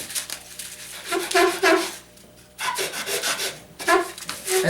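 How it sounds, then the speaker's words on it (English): A guitar neck is rubbed back and forth on sandpaper laid on a flat surface, giving rhythmic raspy strokes in two close, fairly loud bursts with a short gap between. "You take a piece of sandpaper on the flat surface,"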